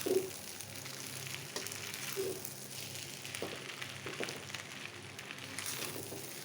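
Pad thai noodles sizzling and frying in a hot pan as they are stirred and tossed with two spoons, a steady hiss with occasional scraping clicks, no talking.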